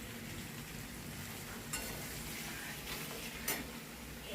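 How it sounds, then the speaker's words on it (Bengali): Fish frying in a pan in a home kitchen, a steady close sizzle and crackle of hot oil with a few brief louder spits, alone without talk. "মাছ ভাজা করছে এখন"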